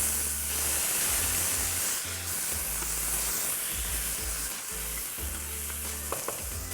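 Tomatoes and green chillies go into a hot pan for a semi-dry veg jalfrezi, giving loud continuous sizzling and frying with stirring scrapes and a few clinks.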